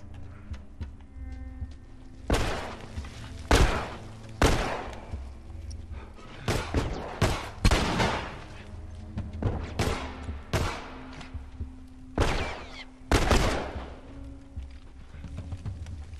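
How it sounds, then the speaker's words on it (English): Repeated loud bursts of flamethrower fire in The Last of Us, several broadband whooshing blasts spaced irregularly over a low game-ambience hum, with no talk. "Gonna pull out the flamethrower."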